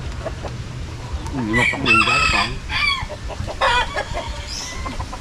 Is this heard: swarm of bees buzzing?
no